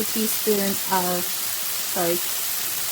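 Spinach wilts in a hot pan, a steady soft sizzle and hiss running throughout while a voice sounds in short bursts over it.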